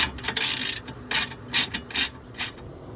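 A ratchet wrench clicks as 3/8 inch nuts come off a TV mount inside a 2021 Winnebago Travato RAM Promaster van, giving a run of close, crisp ratcheting bursts separated by short pauses.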